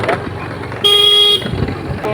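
A scooter runs along an empty village road with its motor humming close by. A bright horn blast of about half a second cuts in partway through, and faint voices come through the road noise.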